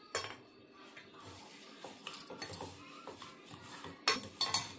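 A child stirring food in a pot while cooking, with scattered clinks and scrapes of a spoon against metal, close and fairly quiet, coming in uneven bursts.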